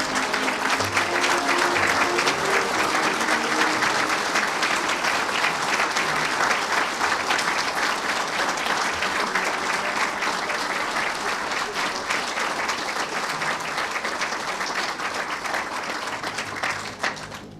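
Sustained applause from a large crowd honoring Vietnam veterans at a ceremony, steady and loud throughout, with faint murmuring mixed in before it tapers slightly at the end.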